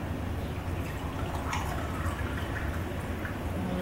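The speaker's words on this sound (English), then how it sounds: "You should put cold water in the bowl." Cold water poured into a bowl, a soft continuous splashing trickle with a few drips, fairly faint and steady, with no talking.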